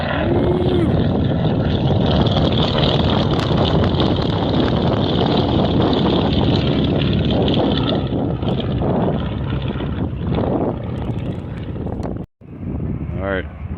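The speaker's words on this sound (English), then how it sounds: "there goes the P-51 Mustang taking off" A WWII-era P-51 Mustang propeller plane takes off at an air show, its loud, rough engine roar steady and close for most of the stretch, buffeted by wind noise and then cutting off briefly near the end.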